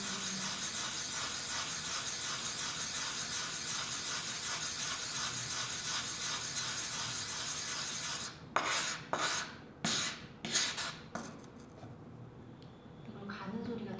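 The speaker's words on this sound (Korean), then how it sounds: "이걸 가는 소리가 되게 좋은 것 같아요" Pigment being ground by hand in an artist's studio, a ceramic china-painting pigment: steady, close scraping and rasping strokes repeat for about eight seconds, then a few separate louder scrapes with pauses between them, and no talking is heard.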